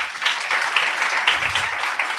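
An audience at a youth festival in Africa gives a steady round of applause, dense even clapping that holds at one level for about two seconds with no voices over it.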